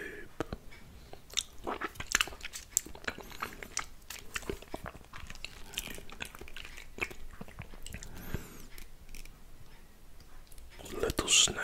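Grass jelly with condensed milk is eaten close to the mic, giving soft wet chewing, slurps and small clicks in an irregular rhythm, faint and intimate, with occasional whispering.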